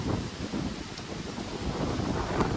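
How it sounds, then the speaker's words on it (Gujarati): Strong cyclone wind roars steadily and continuously, buffeting the microphone with a low rumbling gust that never lets up. "આ બીજો એટલો પવન આવે બહુ તો જોરદાર આવે"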